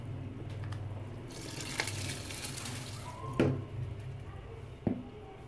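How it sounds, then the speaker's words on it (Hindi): Soaked rice going into a pot of boiling water with chickpeas, a steady bubbling hiss with a soft splashing pour and a couple of sharp knocks against the pot. "अब मैं इसके अंदर भीगे हुए चावल ऐड कर दूंगी।"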